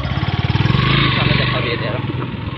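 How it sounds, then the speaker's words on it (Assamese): Motorcycles ride along a dusty road, the near engine chugging in a steady loud pulse that hums throughout, with wind noise over it. "2খন বাইক গৈছে আগত"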